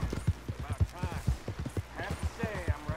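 Horse hooves clip-clopping rapidly in Red Dead Redemption 2, a quick run of close hoofbeats under intermittent speech.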